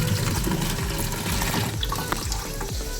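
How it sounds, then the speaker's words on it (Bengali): New potatoes being washed in water, a steady splashing and running-water wash that holds at a constant level from start to end with no voices. "এবার আলুটাকে ভালো করে ধুয়ে নেব"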